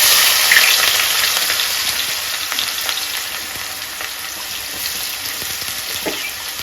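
Sliced onion frying in a pan with fenugreek seeds for Nellore fish curry gives a steady, close, dense sizzle that fades slightly over time, with no voices.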